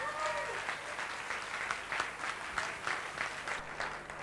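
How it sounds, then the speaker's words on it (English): An audience at a 1989 Victoria show breaks into sustained applause after a finale, a dense continuous patter of clapping heard from within the hall. "Another big round of applause."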